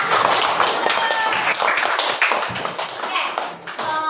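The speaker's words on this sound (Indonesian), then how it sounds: "Oke, tepuk tangan." Schoolchildren in a classroom clap together in a quick, busy burst, dense patters of hands filling the room steadily, with young voices calling out underneath.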